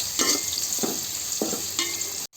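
Oil sizzles steadily with chopped onion, bay leaves, cardamom and cinnamon frying for a pigeon curry, as a spatula stirs through in four even scraping strokes close by.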